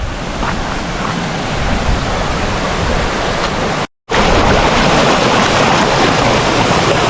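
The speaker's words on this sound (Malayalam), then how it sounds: "ഇവിടെ ഇപ്പോഴും വെള്ളമുണ്ട് വെള്ളച്ചാട്ടം കണ്ട് ചെറിയൊരു വെള്ളച്ചാട്ടം" A small waterfall near an abandoned tea estate and factory gives off a loud, close, steady rushing roar. The sound drops out for a split second partway through and then carries on unchanged.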